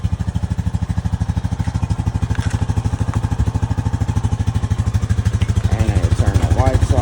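A new 2025 ATV engine idling close by with a steady, loud, rapid putter that rises slightly toward the end, while a voice speaks briefly over it.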